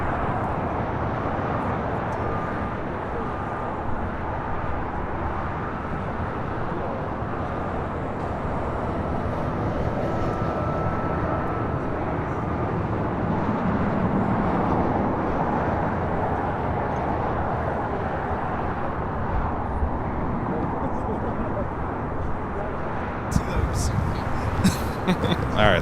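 An American airliner takes off from runway 25 right at Los Angeles International Airport, its broad jet roar loud and steady throughout with little change in level.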